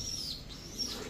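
A male racing pigeon at a pigeon sale gives brief chirping calls, close and fairly clear over a low background rumble.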